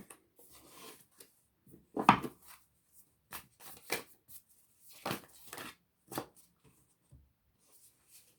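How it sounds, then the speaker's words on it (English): A deck of tarot cards is shuffled by hand, giving scattered sharp riffling snaps and soft papery slides in irregular bursts, close and clear with no talking. "I had three groups of cards fall out while I was shuffling this"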